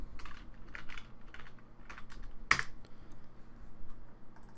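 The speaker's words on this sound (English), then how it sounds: "type in your username," Typing on a computer keyboard: a quick run of light, close key clicks with one sharper, louder keystroke in the middle, over a faint steady hum.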